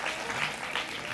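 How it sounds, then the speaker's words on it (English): Faint, distant audience applause forms a brief wash of scattered clapping at a talk. "So give him a big round of applause."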